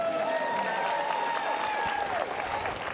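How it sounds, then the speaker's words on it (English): An audience at a pickleball national championship men's singles match applauds, a busy crowd clapping under a commentator's voice and faint whistling tones, easing slightly toward the end. "Let's hear a round of applause for these competitors."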